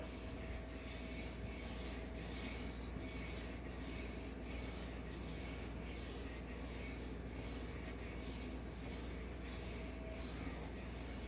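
A fish fillet knife is sharpened on a wet whetstone in steady, regular rubbing strokes, a soft rhythmic grinding repeating about twice a second under constant faint background hiss, with no talking.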